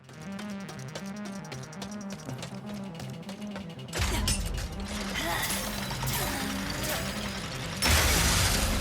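A machine in the Ratchet and Clank Rift Apart video game cranks up with a loud mechanical grinding and clanking burst, cutting in midway over game music and swelling again near the end.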